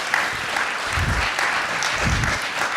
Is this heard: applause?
yes